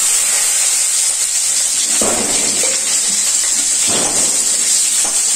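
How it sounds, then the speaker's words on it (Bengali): Potatoes dropped into very hot oil seasoned with cinnamon, bay leaf, dried red chili and whole cumin give off a loud, steady sizzle and hiss, with two brief surges of crackling spatter. "তেলটা খুব কেটে গেছে দিয়ে আলুগুলো ছেড়ে দিলাম।"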